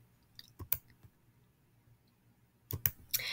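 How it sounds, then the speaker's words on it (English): A computer mouse clicks sharply a few times, paired clicks near the start and again toward the end, separated by quiet pauses in an otherwise silent room. "if you click right here where it says log in"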